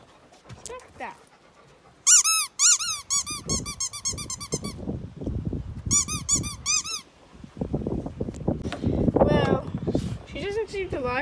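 A dog plays with a squeaky toy while opening Christmas presents indoors, producing bursts of shrill repeated squeaks amid panting, sniffing and rustling, with people talking nearby.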